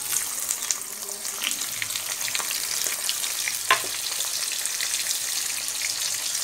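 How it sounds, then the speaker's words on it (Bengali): Onions frying in hot oil in a kadai, a steady dense crackling sizzle with scattered pops and one sharper clack, close and continuous throughout, no voice over it. "তো এই দেখো তেল গরম করে নিয়েছি কড়াতে, এতে আমি এই পেঁয়াজগুলো দিয়ে দেবো।"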